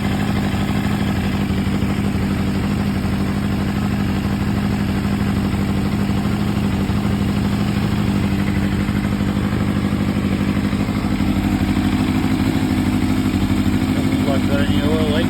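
A Yamaha YZF1000 Thunderace motorcycle engine runs steadily on its first start after a rebuild, a loud, constant idle with mechanical clatter throughout and a brief rise near the end.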